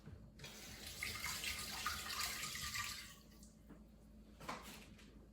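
A kitchen tap runs water over plums being washed, a steady close splashing stream that stops partway, followed by a few drips and light handling sounds.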